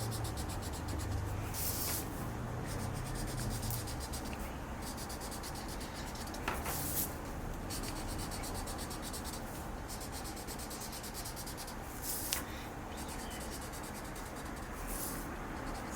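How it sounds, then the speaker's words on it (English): Orange coloring of sunflower petal tips on paper: a continuous dry scratching and rubbing of the coloring tool against the sheet, close up, with small pauses and no talking. "I'm not coloring the whole petal, I'm just coloring just kind of the bottom tip."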